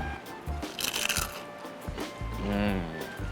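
Crisp crunching bites of bagnet, Ilocano crispy fried pork, several sharp crackles close to the mic, followed by chewing, with a voice murmuring in the background.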